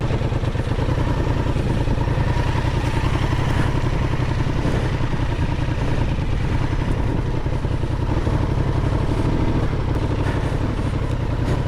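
A motorcycle in a rally in Kyoto, Japan, rides over rocks with its rear tire sliding. The engine drones steadily and close for the whole stretch, with rough clattering from the rocky ground and no talk.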